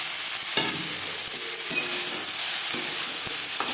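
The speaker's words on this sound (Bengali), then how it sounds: "দু 3 মিনিট গাজরের সাথে ক্যাপসিকাম নাড়াচাড়া করে নেওয়ার পর দিয়ে দেবো পাস্তা" Pasta added to a pan of stir-fried carrot and capsicum for a spicy egg pasta: a continuous close sizzle broken by several dull knocks and scrapes as the food is stirred, with no voices.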